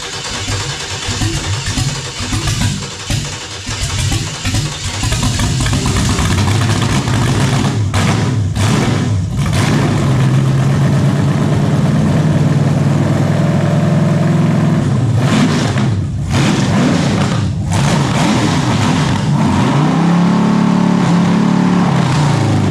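Engine on a test stand cranks, catches and then runs loud and rough, revving repeatedly with sharp swells and dips, close and dominant throughout.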